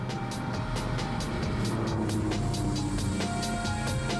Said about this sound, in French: avec la pression sur la touche de volet d'échappement dans la console centrale, le son RS est tranchant